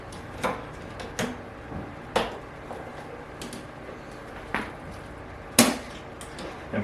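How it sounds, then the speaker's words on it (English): Tubing pulled off and a valve pushed out of an Enbio S sterilizer, heard as a series of sharp, close plastic clicks and knocks spaced irregularly over a quiet background. "you can pull the tubing off and this valve will pop out of place"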